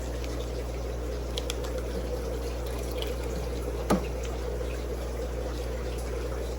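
Water drains steadily from a home guppy tank during a water change, a constant low rushing and gurgling hiss that stays even throughout, with one faint click partway through and no talk.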